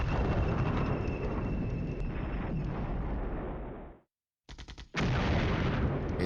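Heavy artillery fire from the wargame Flashpoint Campaigns: Southern Storm rumbles as a loud, continuous barrage of booming shell impacts, cuts out briefly, then returns with a short sputter and more pounding blasts.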